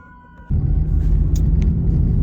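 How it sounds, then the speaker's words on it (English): A fire truck passing close by on the road arrives as a sudden, heavy low rumble that cuts in after a quiet moment and stays loud and steady, with a few faint higher tones flickering above it. "here comes a fire truck"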